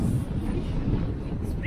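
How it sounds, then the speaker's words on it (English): Steady wind by the London Eye in January buffets the microphone with a low, continuous rumbling roar that never lets up. "It's very windy."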